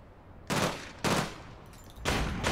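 In the video game APB Reloaded, a gun fires three separate rapid three-round bursts, evenly spaced about half a second apart, each a sharp crackling volley over a faint background hum.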